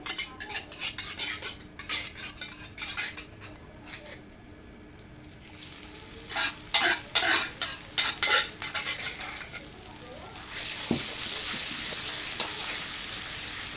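A spatula scrapes and clatters rhythmically against a pan while paste sizzles, the stirring strokes coming in bursts before a louder, steady sizzle takes over.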